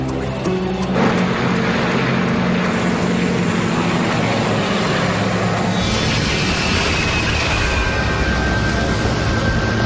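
A Santa Bárbara Airlines Flight 518 ATR propeller airplane in flight gives a continuous loud engine and propeller drone with a steady hum, unbroken for about ten seconds.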